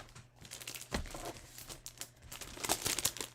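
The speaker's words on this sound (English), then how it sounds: "So let me get that paper out." A sheet of designer series paper being handled and shuffled during card crafting, giving soft crinkles and light rustles with a few sharper snaps, close and quiet, with no voices.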